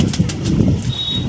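Pigeons in a home loft give soft low coos mixed with quick flutters of flapping wings, close by and fairly loud.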